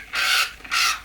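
A crow gives two harsh, loud caws close by, each lasting about a quarter second with a short pause between them, and nothing else is heard.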